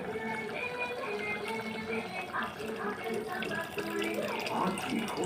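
Tamarind water poured into a pot of simmering curry, a steady splashing, trickling pour heard close and continuous throughout, with a busy kitchen background.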